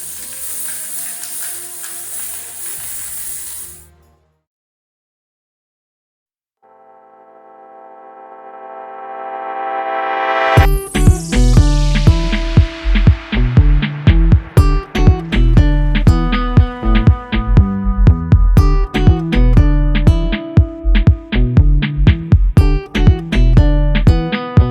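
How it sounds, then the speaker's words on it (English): A spray can hisses steadily while a giant Nutella jar is spray painted, then cuts out; after a pause, rhythmic, loud electronic music with punchy beats takes over. "Let's now go to spray painting it"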